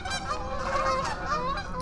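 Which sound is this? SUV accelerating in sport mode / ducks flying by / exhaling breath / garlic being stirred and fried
ducks flying by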